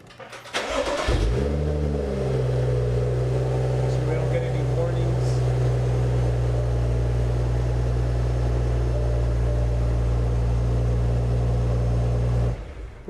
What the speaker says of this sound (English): We're going to start the vehicle